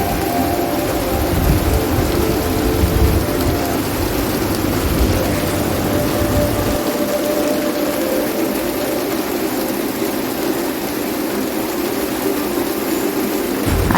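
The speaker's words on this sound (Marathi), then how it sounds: "आता रात्रीचे 10 वाजले तरी पावसाची संततधार सुरूच आहे" Heavy, nonstop night-time rain in Mumbai, a dense, even hiss of downpour close by with a low thunder-like rumble beneath it during the first half that then fades away.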